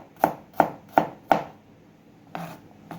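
A sharp kitchen knife chops vegetables on a cutting board, giving four evenly spaced crisp thuds followed after a pause by two softer ones, close and with no talking.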